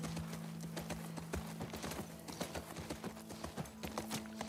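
Horse hooves clip-clop in a steady walking rhythm on a hard surface in The Last of Us Part II, with a low tonal hum beneath and faint game ambience, moderately close and without speech.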